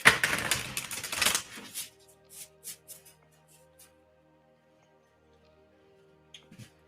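Tarot cards being shuffled by hand: a dense burst of riffling and card slaps for about two seconds, followed by a few sparse taps and soft card sounds against a quiet background.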